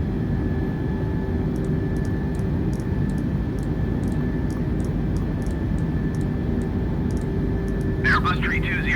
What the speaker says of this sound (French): donc là on a décollé. On lève les volets.